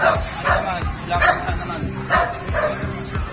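Small Pomeranian dogs let out quick high yips and barks about twice a second, close by, while people talk over them.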